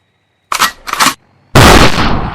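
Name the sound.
gunshots in the video game Renegade Nation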